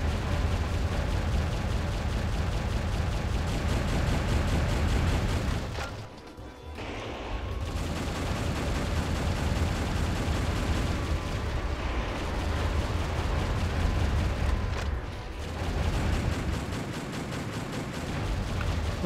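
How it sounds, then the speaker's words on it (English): Enemies open fire and explosions erupt without letup in Metal Wolf Chaos XD, a loud, dense wall of gunfire and blasts that breaks off briefly twice before rushing back in. "Oh, they're shooting down."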